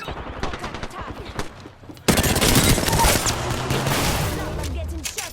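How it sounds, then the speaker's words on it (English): Dense video-game gunfire in a ranked battle-royale match: sporadic shots at first, then from about two seconds a loud, continuous fusillade of rapid bursts, with muffled talk underneath. "I'm getting shot at"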